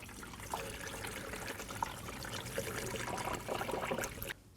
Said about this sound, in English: Now we can use some windshield washer and pour it in.